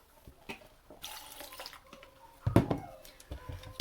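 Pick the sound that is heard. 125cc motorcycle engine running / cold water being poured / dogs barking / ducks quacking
cold water being poured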